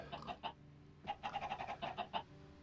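Chicken clucks from the video game Sky Factory 4 (Minecraft): a short pair of clucks, a pause, then a quick rapid series of clucking calls, faint and alone.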